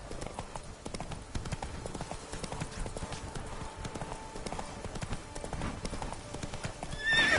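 A horse gallops in the video game The Witcher 3, a continuous rhythmic clatter of hooves at moderate distance with a brief whinny near the end.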